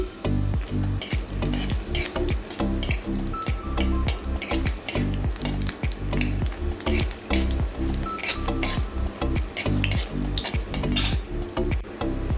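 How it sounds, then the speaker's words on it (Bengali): Bori lentil dumplings frying in mustard oil, a steady close sizzle with repeated clinks and scrapes of a utensil stirring the pan, continuous and loud with no voices. "এই দেখুন, বড়িটা ভেজে নিচ্ছি।"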